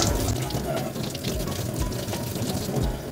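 Tap water runs steadily and close by as a makeup puff washed with Daiso puff cleanser is rinsed under it, a continuous broadband splash with no talk.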